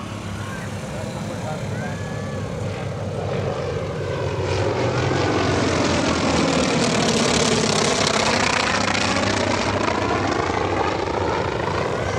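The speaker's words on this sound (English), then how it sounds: "listen to the sound of the right engine" Loud North American T-28 Trojan trainer aircraft engine roaring past at an airshow, swelling as it approaches and sweeping through with a pulsing drone, continuous for the whole stretch.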